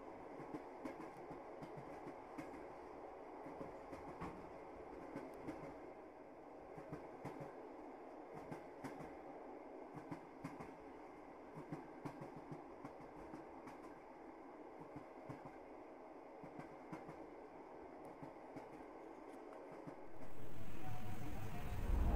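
Train wheels clatter over rail joints in a quiet, steady rhythmic run during a winter journey, followed by a sudden louder burst of noise at the very end.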